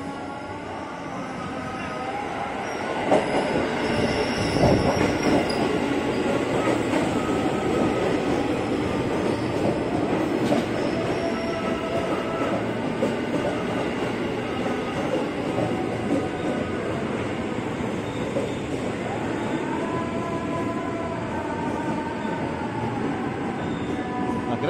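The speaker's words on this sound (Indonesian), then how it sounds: "masuk ya komuter lain tujuan stasiun Jakarta Kota, JRS 205, 12 kereta" A 12-car JR 205 series KRL Commuter Line electric train bound for Jakarta Kota arrives at a station, a long loud rumbling and rattling roar with wheel noise throughout, while people talk nearby.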